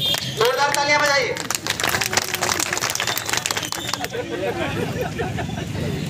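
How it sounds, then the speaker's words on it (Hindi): Applause from a crowd at a ceremony honouring sanitation workers on Gandhi Jayanti, dense clapping with crowd babble and some talk through it. "जोरदार तालियां बजाइए।"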